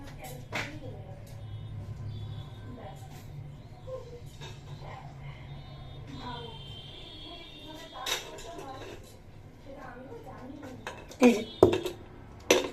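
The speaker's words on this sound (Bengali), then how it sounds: "ভাতের হাঁড়িটা একটু খালি করে নেই, কন্টেনারটা বের করে নিয়েছি" A rice pot is emptied into a container, with scattered soft scrapes and knocks of cookware and a few sharp metallic clinks near the end, over a low household hum and occasional quiet talk.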